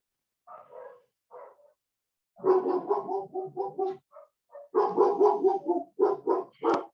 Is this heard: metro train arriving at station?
no